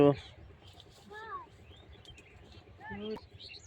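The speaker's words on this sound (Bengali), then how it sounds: "পাখি" A couple of brief bird calls, thin rising chirps, separated by quiet background noise, sounding close.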